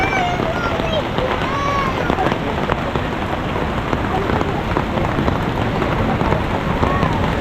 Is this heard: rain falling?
yes